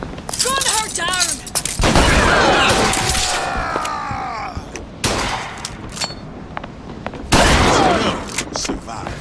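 Gunfire in the BioShock Infinite shooter game: cracking bursts and volleys of shots come in bunches, especially toward the start and end. Shouted voices and game sounds run throughout.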